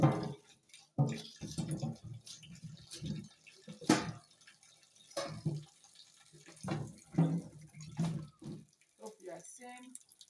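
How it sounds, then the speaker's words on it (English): Peeled cocoyam pieces drop one after another into a basin of water while cooking a family meal, giving repeated close splashes and plops in an irregular rhythm, with brief trickling between drops. "When you are peeling it, drop it direct inside water and be cutting it."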